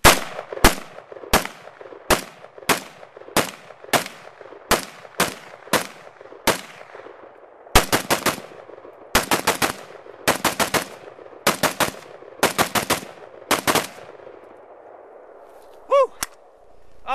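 A Galil ARM rifle fires at an outdoor range: about ten evenly spaced single shots, then a rapid cluster of sharp cracks with short gaps, loud and close, each shot trailing a brief echo.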